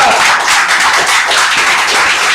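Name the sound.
congregation clapping in church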